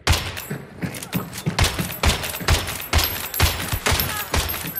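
Rapid gunfire rings out in the video game Hunt: Showdown as a steady series of sharp, loud shots fired in quick rhythm, with no talk over it.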